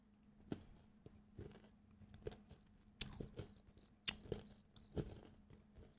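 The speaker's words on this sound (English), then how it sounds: "Crickets." A cricket chirping sound effect gives bright, rapid, evenly spaced chirps that come in and out over a faint low hum, alone with no talking.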